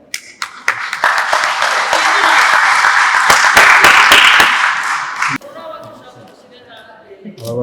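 Guests at a Rwandan wedding ceremony burst into loud, close applause with sharp individual claps, sustained for about five seconds before it stops abruptly and a voice speaks.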